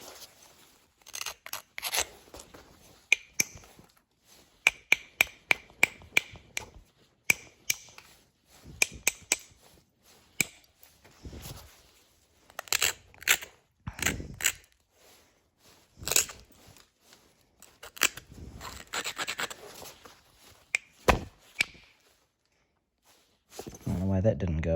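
Antler billet striking a stone flake during flintknapping, notching and trimming near a limestone spot: a series of sharp, close clicks and crunchy taps in irregular bursts, with someone talking quietly between strikes.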